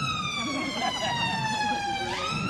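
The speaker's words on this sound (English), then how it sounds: "Oh, it's the ambulance." An ambulance siren passing on a street, a loud wailing tone that holds steady and then shifts pitch as the vehicle goes by, with faint traffic noise underneath.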